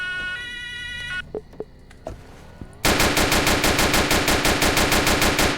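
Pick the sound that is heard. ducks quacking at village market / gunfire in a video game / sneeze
gunfire in a video game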